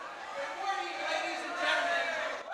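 A crowd of panda lovers rushing forward at the San Diego Zoo, heard as a steady roar of many voices shouting and whooping together, swelling slightly and then fading at the end.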